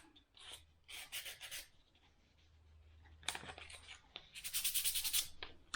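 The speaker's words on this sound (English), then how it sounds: "I usually take 100 grit sandpaper on that and knock those little pieces of wood off that have splintered" Wood is sanded by hand with 100 grit sandpaper to knock off splintered bits, giving several bursts of close, scratchy rubbing separated by quieter pauses, with a long louder stretch near the end.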